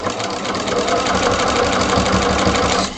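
Sewing machine stitching two fabric pieces placed right sides together, a steady, loud, continuous mechanical whir with rapid rhythmic needle chatter running throughout, close up and with no voices.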